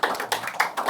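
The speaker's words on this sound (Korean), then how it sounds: "다시 한번 박수 부탁드리겠습니다" Audience clapping at the close of a Korean lecture on saju myeongrihak and seonbi spirit, a short burst of broadband claps with uneven, overlapping hits, fairly close and moderately loud.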